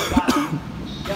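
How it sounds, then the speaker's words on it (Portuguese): A person coughs a couple of times in quick succession, close and fairly loud, followed by a brief rough throat-clearing sound, with no speech. "E a tosse?"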